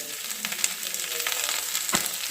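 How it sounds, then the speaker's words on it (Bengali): Cauliflower florets tossed into a pan of potatoes already frying in oil give off a continuous close sizzle, with a few louder crackles and spatters. No one speaks. "চার পাঁচ মিনিট ধরে আলুটাকে ভালো করে ভেজে নিয়েছি এবার এটা মধ্যে আমি ফুল ফুলকপিটাকে দিয়ে দিচ্ছি"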